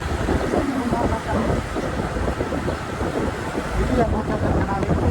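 Steady broadband wind roar buffets the microphone aboard a boat crossing Lake Toba, with low engine and water rumble underneath and a faint voice briefly audible.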